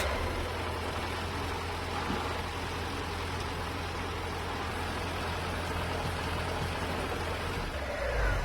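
A steady low engine drone runs throughout from a tractor in a children's vehicle video game, idling and driving, constant and moderately loud with no talking.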